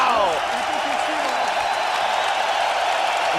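A UFC crowd in Germany stands and cheers after a Rich Franklin versus Wanderlei Silva main event, a loud, sustained wash of applause and roaring, with a commentator's voice talking over it.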